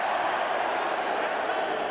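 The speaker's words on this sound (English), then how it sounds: "the Australian crowd not happy about that" Australian rugby crowd at a 1996 All Blacks v Australia match in Brisbane gives a dense, steady stadium roar of displeasure, loud and unbroken throughout.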